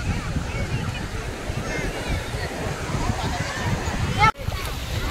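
Sea waves washing up on a crowded Mumbai beach, a steady broadband surf rush with wind buffeting the microphone, one brief sharp bump near the end, and people talking faintly in the background.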